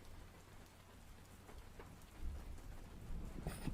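Faint, steady rain falls in the background with a constant wash of patter, a low rumble swelling slightly toward the end.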